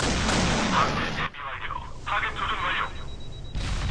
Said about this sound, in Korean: 요거 K5 발사